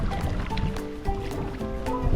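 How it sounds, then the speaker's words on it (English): Rushing river rapids churn under a paddle board, a steady broadband wash of water with splashy surges and small tonal gurgles, close and fairly loud throughout. "So there's another bloody rapids coming."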